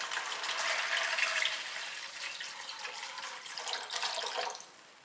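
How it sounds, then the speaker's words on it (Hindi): Two cups of water pour steadily into a cooking pan for meatball Manchurian, a soft splashing stream that thins out toward the end. "अब इसमें ऐड करेंगे 2 कप पानी।"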